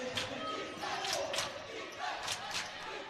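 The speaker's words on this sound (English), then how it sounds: "The crowd getting involved." A crowd cheers in a gym at a boys' high school basketball game in the fourth quarter, Achievement First against St. Johns Prep. The roar is steady and swells in waves, with a commentator talking over it.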